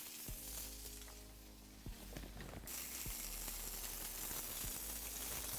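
Arepas searing on a Big Green Egg grill give a steady, broadband sizzle that swells louder partway through, broken by a few sharp clicks and scrapes, close and with no talking.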